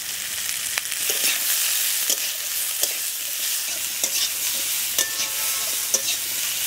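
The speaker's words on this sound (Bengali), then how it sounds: "কেটে রাখা আলু আর শাকের ডাঁটা দিয়ে দিচ্ছি এখন তেলের মধ্যে" Cut potatoes and leafy greens stems fry in hot oil with a steady, close, fairly loud sizzle, punctuated by occasional scrapes and clicks of stirring; no voices.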